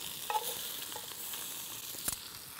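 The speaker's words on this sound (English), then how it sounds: "That onion's starting to sizzle away." Onions sizzle steadily in a hot camp oven, a continuous crackling hiss with a few sharper pops and no talking.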